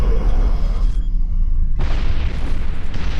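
Explosions in a video game rumble as a loud, sustained, deep boom with crackling bursts that cut out briefly and then return, with no talking over them.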